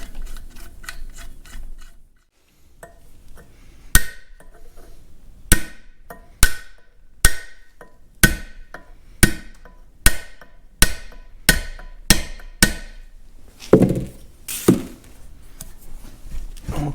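Hammer blows fold over a lock on the PTO drive of a Caterpillar D2 crawler tractor, giving about a dozen sharp, loud metallic strikes at a steady rhythm after a few lighter taps, heard close up in a quiet shop.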